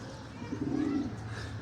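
A pigeon coos once in a low, soft, throaty burble, close by against faint background noise.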